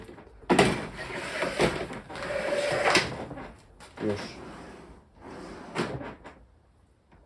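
A Platinum LED-lit drawer slides into an assembled cabinet with several bumps and sliding thuds, close and fairly loud, while someone speaks briefly.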